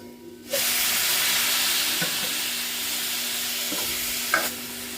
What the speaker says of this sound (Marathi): आता आपण याच्यात थोडं पाणी टाकून घेऊ तेल सुटण्यासाठी